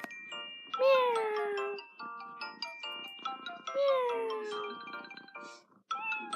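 A person imitates a cat with a string of drawn-out, falling meows, a few in a row with short pauses between, fairly close and clear against a quiet background.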